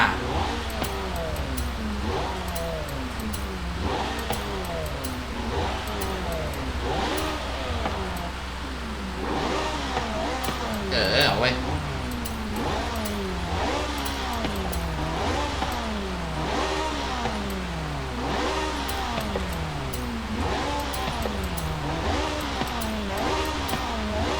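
Ferrari F430 Scuderia engine in Forza Horizon 5, revving repeatedly in rising and falling sweeps, loud and close, one after another for about twenty-four seconds, with a brief hiss partway through.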